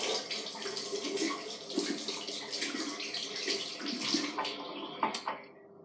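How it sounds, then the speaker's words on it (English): Hands being washed at a bathroom sink, with broadband running tap water splashing steadily for several seconds, a few louder splashes and handling knocks near the end as the flow cuts off; no talking. "I think I will just wash my hands again."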